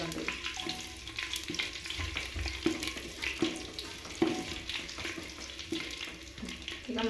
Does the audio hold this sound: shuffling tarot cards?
no